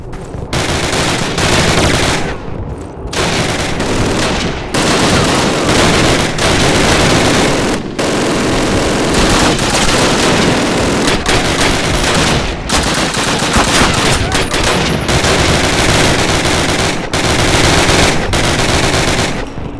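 Sustained, loud machine gun fire from a Call of Duty battle, with long rapid bursts broken by brief gaps over about twenty seconds.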